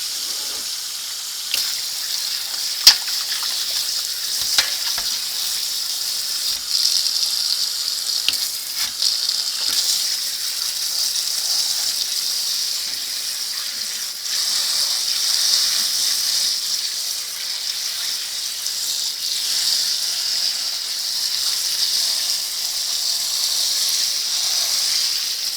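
Cold water runs from a kitchen sink tap over blanched potatoes in a steady, hissing stream that continues for the whole stretch, with small splashes and shifts in the flow and no talking.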